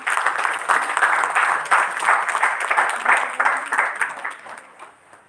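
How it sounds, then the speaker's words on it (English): An audience at a pharmacy college event applauds to welcome the chief guest, dense steady clapping filling the hall and then tapering off near the end. "Please welcome him with a huge round of applause."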